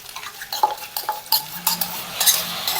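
A pounded paste of garlic, green chili, ginger and coriander with salt is stirred into a hot pan, giving a string of close scraping, stirring clinks and soft sizzling bursts with no talk.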